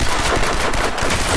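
Pistol gunfire in the shooter game Crysis 3 during a multiplayer deathmatch on the Museum map, a dense burst of loud, close shots merging into one continuous crackling blast with no break.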